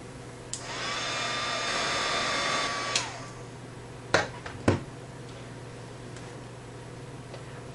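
Heat tool melting gold antique vintage embossing powder runs as a whooshing hum for a couple of seconds and then cuts off, followed by a few sharp clicks and taps nearby.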